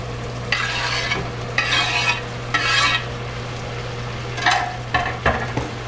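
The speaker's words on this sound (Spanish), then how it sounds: "vamos a esperar a que se frían un poquito más" Onion and tomato frying in a pan with steak for spaghetti, a steady close sizzle with several louder bursts of stirring and scraping, no voices.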